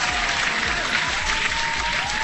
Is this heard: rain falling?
no